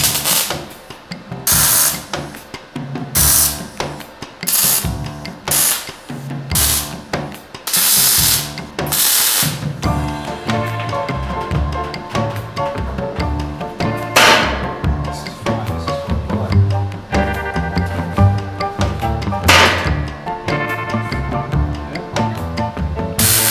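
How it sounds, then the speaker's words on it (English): Welding on an oil barrel barbecue, a loud steady crackling arc with bursts and pauses early on, then a long continuous run of sizzling and spattering. "I will then open the lid and do some more proper welding"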